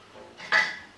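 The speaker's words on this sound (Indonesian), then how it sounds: "Oke, kita aduk lagi." A spoon clinks and swirls inside a glass of Nutrisari young coconut drink with ice, giving a short, bright metallic rattle that peaks once and fades within a second.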